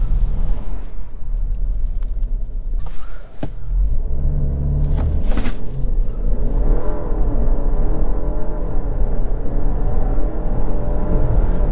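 A 2023 Jeep Grand Cherokee 4xe Summit Reserve hybrid launches hard from a standstill with traction control off, a steady loud engine rumble and whir climbing as it accelerates, with a brief dip before the surge.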